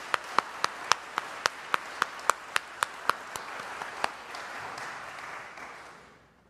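A church congregation at a St. Paul's UMC worship service applauds educational award recipients, starting with a dozen crisp, evenly spaced claps before thickening into a brief wash of applause that fades out.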